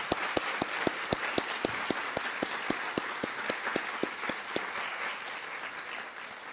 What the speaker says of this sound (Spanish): les pido a todos que les demos un gran aplauso a nuestros